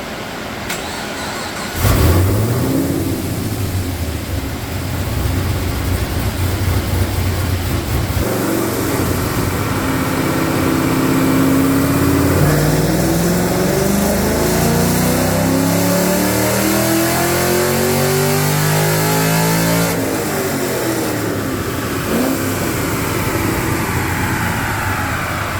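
An LS3 V8 with a GPI rod mod and ported intake manifold roars through a full dyno pull. It opens with a loud start, then climbs steadily in pitch through sustained high-rpm revving with no voices.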